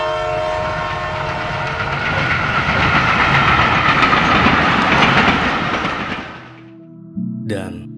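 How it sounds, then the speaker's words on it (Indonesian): Italian Pendolino express train passing, a loud rushing roar with clattering wheels that swells and then fades, followed by a brief horn-like tone near the end. "Pendolino adalah sebuah kereta ekspres yang beroperasi di Italia."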